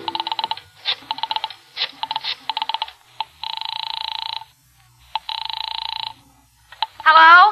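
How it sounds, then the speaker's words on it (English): Rotary-style telephone dial clicks and tone bursts in an old-time radio thriller, several rhythmic bursts and sustained beeping tones alone and close, ending with a brief warbling ring-like sound. "I found it and crawled over to it and started dialing my number."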